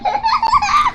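A canned laughter sound effect from the Naver Clova Dubbing effects library: a burst of bright, giggly, baby-like laughter lasting about a second, loud and close, with no talking.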